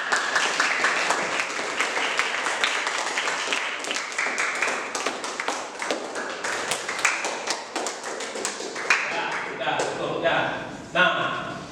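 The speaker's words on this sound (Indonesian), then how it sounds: "Beri tepuk tangan dulu untuk semua." Students in a classroom applaud, a dense burst of many hands clapping that thins into scattered, uneven claps and a few louder single slaps toward the end.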